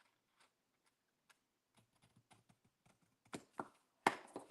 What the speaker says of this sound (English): So I'm going to take my scallop scissors and just scallop right here.